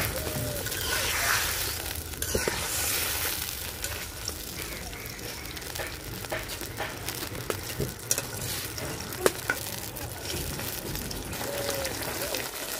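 Hilsa fish in a mustard and poppy-seed masala fries and sizzles in a pan, with a steady crackle and occasional clinks of stirring throughout, alone and close by.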